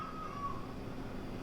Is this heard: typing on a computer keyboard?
no